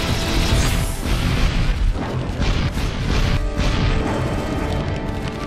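Army tanks and other vehicles are destroyed by modern weapons in a cartoon space war: dense, loud, continuous booms and crashes with metallic clatter and bursts, and no talking.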